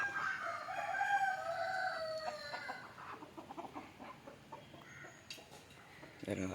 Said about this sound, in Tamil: அடகோழி எங்கே இருந்தெல்லாம் வரும் பாருங்க ப்ரோ